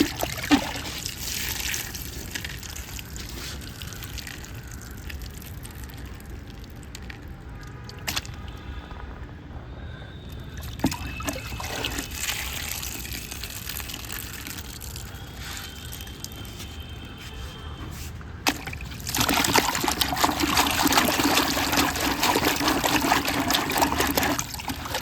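Water is poured onto a DIY vermicompost earthworm unit, a continuous trickle and splash over soil and mud that swells into a louder, heavier stream near the end.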